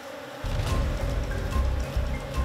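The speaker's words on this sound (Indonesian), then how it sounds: "Sarang ini dihuni oleh koloni lebah yang lebih besar. Saking banyaknya, dengung suaranya nyaring mengitari kami" A large bee colony swarms around its nest, a loud, close, continuous buzzing drone that starts abruptly and then holds steady, with individual bees whirring past.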